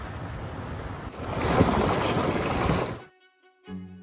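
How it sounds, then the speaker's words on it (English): Loud, broad rushing water of a flash flood surging down a previously dry creek in heavy rain roars steadily for about three seconds, then cuts off abruptly into near silence. "water from the dry creek suddenly erupted under the heavy rains"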